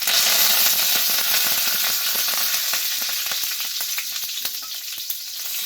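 Mustard seeds, asafoetida and curry leaves spluttering in hot oil for a Mangalore-style cucumber sambar tempering: a loud, steady crackling sizzle with dense sharp pops throughout, easing slightly toward the end.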